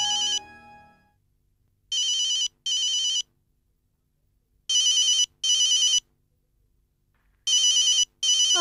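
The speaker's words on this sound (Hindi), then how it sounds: "बाबूसा का फोन आपके कमरे में कैसे बज रहा है?" A phone rings in repeated double bursts of electronic trills separated by silent gaps, loud and close, with no one speaking.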